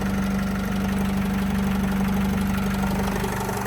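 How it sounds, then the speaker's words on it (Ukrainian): A 2012 Opel Vivaro passenger van with a 2.0 diesel engine idles, a steady low rumble with a constant hum and an even diesel clatter throughout, close and uninterrupted. "я думаю, чути роботу мотора, відмінно працює"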